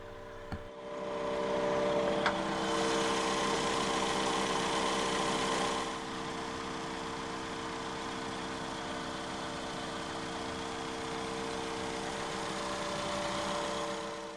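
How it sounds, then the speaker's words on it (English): A 1972 Mini 1000 with a transversely mounted 1-litre inline-4 overhead-valve carbureted petrol engine catches after start-up, then settles into a steady, even idle hum with a slight drop in level partway through. "The Mini 1000 does have a 1-litre inline-4 petrol engine that is transversely mounted and features an overhead valve and a carburetor."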